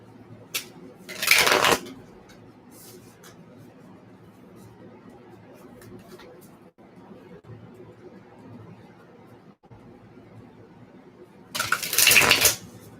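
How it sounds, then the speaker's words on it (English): Tarot cards being shuffled during an astrology reading, two short bursts of riffling and slapping, one near the start and one near the end, with quiet room tone between and no talk. "Let's shuffle these ones."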